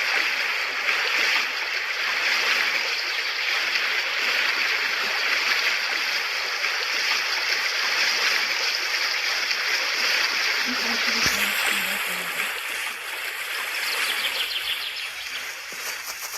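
A shallow stream rushes steadily as a horse and her foal wade across, a constant close wash of water with faint splashes and a brief low bump partway through.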